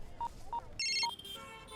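Touch-tone phone keypad beeps: three separate dial tones, then a brief burst of higher ringing or connection tones, followed by softer electronic tones, heard alone at a moderate level in a Hindi-dubbed South Indian film scene.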